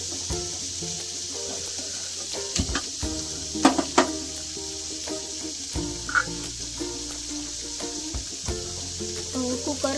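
Paneer frying in a ladle of hot oil, a steady broadband sizzle running throughout at moderate level, with a few brief clinks and bumps of utensils over it.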